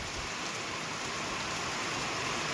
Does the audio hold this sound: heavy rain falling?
yes